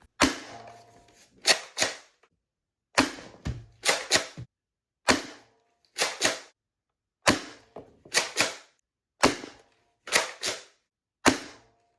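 A modified X-Shot foam dart blaster with a swapped spring is test fired about a dozen times at close range, each sharp snap standing alone, sometimes in quick pairs, with silence between them.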